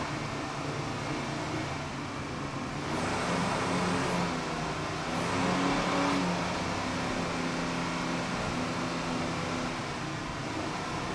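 A 38-foot Fountain racing powerboat with twin 500-horsepower Mercury inboards roars during a 2002 Key West race, producing a steady engine drone that swells as the throttle opens.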